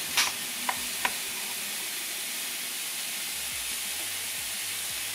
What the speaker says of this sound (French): donc on va pouvoir commencer à mettre les boulettes